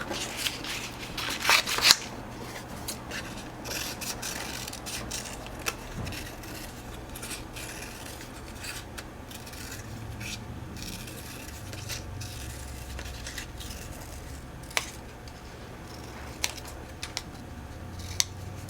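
Scissors cutting out a traced paper circle for a paper cupcake craft, a long run of soft, irregular snips and paper rustles up close, with a few sharper clicks and no talking.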